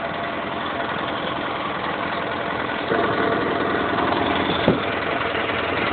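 An Argo 8x8 amphibious vehicle's engine runs steadily and loud throughout, rising slightly as it pulls away, with a brief knock partway through and no talk.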